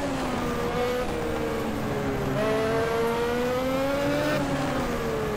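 Formula Classic race car engine at the Jerez circuit in the Game Stock Car racing game, a steady high-pitched whine that rises through the gears with short shift breaks, loud and continuous from the driver's position.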